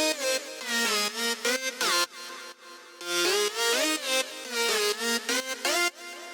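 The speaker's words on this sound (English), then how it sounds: "the first part I'm going to show you is the lead, which is the top melody of the song" A bright electronic synth lead carries the top melody of an EDM song, quick gliding notes in rhythmic phrases with short breaks, loud and alone.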